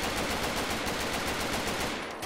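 Rapid automatic gunfire in the game Fallout 3, a fast, steady stream of loud shots with no pauses, close and harsh throughout.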